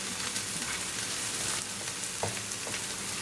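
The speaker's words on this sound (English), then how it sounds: "We're going to cook our onion for 3 minutes." Onion frying in a pan for a bean and chickpea sabzi, with a steady close sizzle throughout and a few soft stirring scrapes; no talking.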